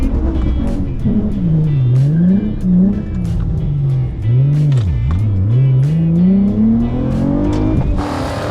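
A cheap daily-driver car makes a drag racing run at Drag Week, its engine loud and close from the cabin, revving up through gears with repeated rising and dropping pitch sweeps as it shifts.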